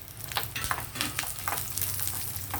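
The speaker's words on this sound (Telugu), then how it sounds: "మన కొబ్బరి ముక్కలు జీడిపప్పులు చక్కగా వేగాయి కదా ఇప్పుడు కిస్మిస్లు వేద్దాం" Cashews and coconut pieces with raisins frying in a pan, a soft steady sizzle broken by light stirring scrapes, close and fairly quiet, with no one talking.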